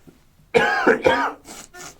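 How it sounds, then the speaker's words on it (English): A single rough throat-clearing cough, harsh and close, followed by a couple of softer short huffs. "sorry if you can hear my coughing"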